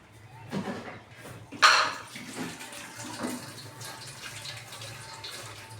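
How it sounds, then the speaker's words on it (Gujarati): Water is poured into a curry mixture in a home kitchen, a splashing pour that surges at about one and a half seconds and then trails off into quieter trickling, with faint talk nearby. "હજુ થોડું પાણી રેડીશું આપણે"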